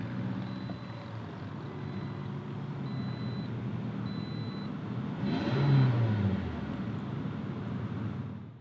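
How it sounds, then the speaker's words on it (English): A 2018 Toyota RAV4 Adventure starts with its push button. A low, steady cabin hum swells briefly as the engine catches with a short rev midway through, then settles back into a quiet idle. "To start it up, you just put your foot on the brake and hold it"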